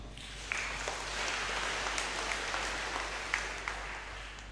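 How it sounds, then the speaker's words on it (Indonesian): Congregation applauding in a church during a Sunday Mass homily, a steady wash of hand claps with a few sharper individual claps standing out over several seconds. "Ayo aplaus dulu"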